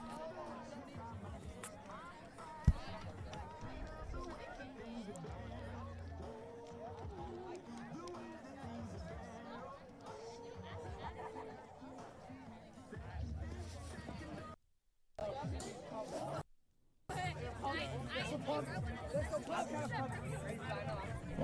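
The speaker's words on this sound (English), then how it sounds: "a great crowd on hand here at the 2021 Evanston Invite" Spectators gathered at the start of a 5-kilometer high school cross country race at the 2021 Evanston Invite, steady outdoor crowd murmur and chatter with a sharp knock early on and some brief gaps.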